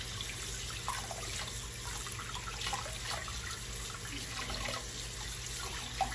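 Steady running tap water splashing into a sink while rinsing a dirty makeup brush, a continuous hiss with faint dripping and rinsing, no voices.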